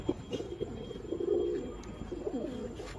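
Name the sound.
pigeon cooing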